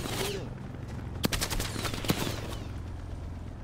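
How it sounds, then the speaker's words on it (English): Gunfire in the video game Call of Duty Black Ops Cold War during a quads match: a steady stream of shots with two sharper bursts standing out, heard under background game noise and a voice talking. "I'm getting shot, though."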